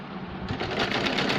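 Sewing machine stitching picot edging along the bottom of fabric from the wrong side, a steady close mechanical whir with rapid needle clatter throughout.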